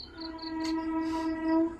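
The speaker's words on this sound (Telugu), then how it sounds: "ఏదైనా ట్రైన్స్ వినబడుతుందా?" A train horn or whistle sounds near a village, a steady sustained tone held for under two seconds with faint higher tones above, moderately loud and alone without talk.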